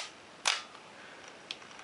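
A Minolta X film camera shutter trips at a half-second speed: a crisp close click opens it, then a softer second click closes it about a second later in a quiet room.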